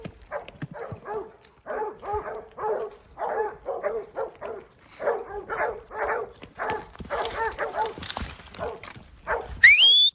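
Dogs herding cows bark in quick, repeated bursts, fairly close, with a brief yelp near the end.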